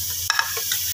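Masala for shaljam gosht frying in a pan, a steady sizzle broken by a couple of sharp scrapes and clinks as it is stirred, close and continuous.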